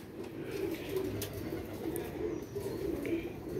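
Domestic teddy pigeons coo in soft, repeated low calls from a large flock of these fancy pigeons, close and steady over a faint background hum, with no talking.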